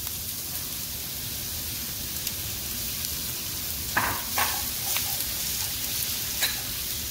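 Chopped onions go into hot oil in a pan for a Kerala beef bone curry, giving a steady loud sizzle with a few crackling pops and stirring scrapes, no talking.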